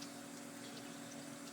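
A Turbo 1000 skimmer pump draws water in an aquarium refugium, giving a faint, steady hum with a thin watery hiss, unchanging and alone throughout.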